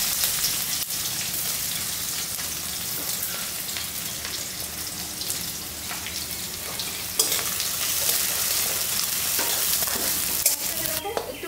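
Chopped onions sizzle and fry steadily in hot oil, a dense, continuous crackle with occasional stirring scrapes, close and fairly loud throughout with no talking.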